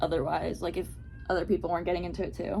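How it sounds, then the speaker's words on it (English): A cat meows loudly at a door, a short high cry rising between stretches of someone talking close by. "that's my cat screaming at the door"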